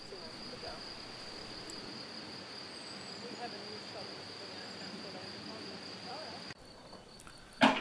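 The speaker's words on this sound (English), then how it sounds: "meadows which reverberate to the sound of crickets" Crickets in an Alpine valley meadow chirp as a steady, faint high-pitched trill that holds over a soft background hiss, with a brief louder noise near the end.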